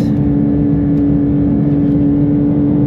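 Porsche GT3 RS at full throttle on the Nürburgring, heard from inside as a loud, steady engine drone with a strong tonal hum and road rumble, unbroken throughout.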